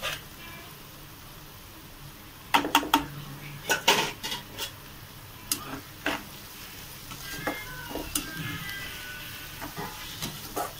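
Chopped tomatoes tipped into a pan of golden fried onions for a prawn thokku, with a low sizzle under scattered clinks and scrapes of a spoon against the metal pan, close by.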